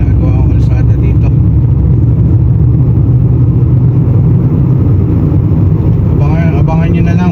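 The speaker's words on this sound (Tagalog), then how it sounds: "medyo traffic dito at ginagawa yung kalsada" Slow road traffic at a stretch of road under construction, a loud continuous engine rumble from nearby vehicles with someone talking over it throughout.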